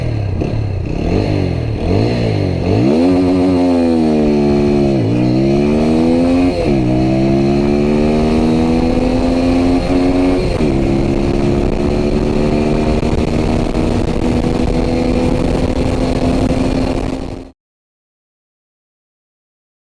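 TVS Apache RTR 200 4V motorcycle in sport mode launching hard, engine revving up through several gear shifts with rising and dipping pitch, loud and close for about seventeen seconds before cutting off to silence.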